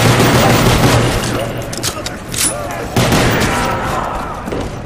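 Pistol gunfire in the video game Shangri La: a rapid, loud flurry of shots and bursts with booming hits, dense at the start and again near the end, close and dominant.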